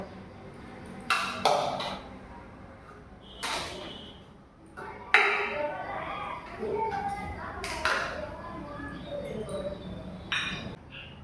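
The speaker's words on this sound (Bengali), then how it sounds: "এগুলি আমি থালায় সাজিয়ে নিলাম।" Several light clinks and taps of plates and dishes at irregular intervals as fried foods are arranged on a platter, close by, with quiet background noise between them.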